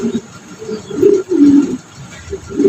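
A Black Mondian pigeon coos close by, giving a few low, throaty rolling coos in uneven bursts with short pauses between them, and no talking.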